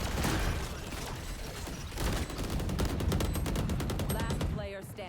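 Dense bursts of rapid gunfire and scattered shots ring out in a video game battle, loud and continuous, with a voice speaking briefly near the end.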